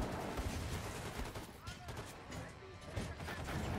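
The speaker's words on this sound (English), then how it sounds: "I hear bullets flying, but all I see is my health going up." Gunfire and bullets flying in the shooter game Wolfenstein 2, a dense run of sharp bursts and impacts filling the whole stretch at steady loudness, with a busy game soundscape underneath.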